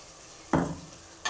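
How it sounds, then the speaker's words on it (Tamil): Onions and ground tomato sautéing in a pan on high flame for fish curry, with two short bursts of loud sizzling and stirring, the first stronger and the second brief, close to the mic and separated by quiet. "ஹை ஃப்ளேமில் வச்சு நல்லா வதக்கணும்."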